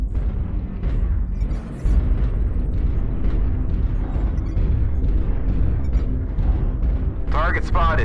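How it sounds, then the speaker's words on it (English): LB autocannons on a Cataphract 3D mech in MechWarrior Online fire in a rapid run of loud, heavy booms that run into a continuous rumble, with a brief voice near the end. "Watch that gun fire."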